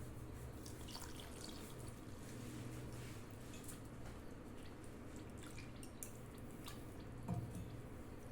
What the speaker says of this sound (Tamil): இப்போ அதே கப்பில் தண்ணி ஆட் பண்ணிக்கலாம்.